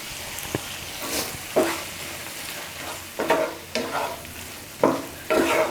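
Chutney ingredients with a little coriander leaf frying in a pan, a steady low sizzle broken by repeated bursts of spoon scraping and stirring at irregular intervals, close and clear with no talk.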